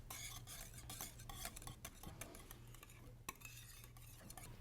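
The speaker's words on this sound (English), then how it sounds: "Whisk together all the ingredients until the butter is melted." A whisk clicks and scrapes against a bowl, blending butter, syrup and Madagascar bourbon extract into thickened pastry cream for eclairs, with quick rhythmic strokes close up and fairly quiet.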